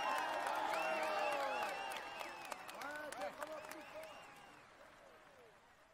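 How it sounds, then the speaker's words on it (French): Crowd applause and cheering in the Tour de France 2015 video game, a dense burst of clapping with whoops that fades gradually over a few seconds. "Allez, on l'applaudit encore."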